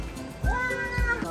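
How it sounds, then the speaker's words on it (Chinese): A pet cat meows at home, two or three short rising and falling cries close by, with a little background noise between them. "那猫咪一定在那叫猫咪呢。"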